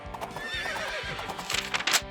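A horse gives a loud, close whinny that rises and wavers while hooves clip-clop in a steady rhythm beneath it, over about two seconds.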